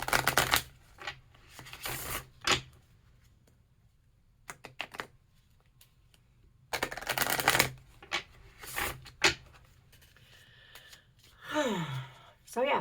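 Playing cards being shuffled in several quick riffling bursts, close and fairly loud, separated by quiet gaps, with a few soft breaths and light handling sounds between them.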